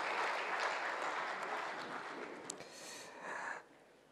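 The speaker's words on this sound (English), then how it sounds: "Please, another round of applause to the Dean of the Diplomatic Corps." Dense applause from a large crowd at a diplomatic New Year reception, a steady wash of clapping that holds for several seconds and then tapers off.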